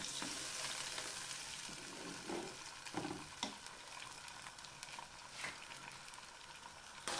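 Frozen peas are stir-fried in a pan for matar pulao, producing a continuous loud sizzle broken by a few distinct scraping stirs, with no talking.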